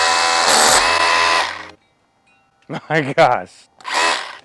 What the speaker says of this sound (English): Here's my first attempt using the hammer drill.